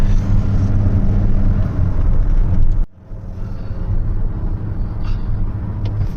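Steady low road rumble from a new car cruising on the mountain highway between Mecca and Taif, broadband tyre and engine noise throughout with a brief dip near the middle, no talk.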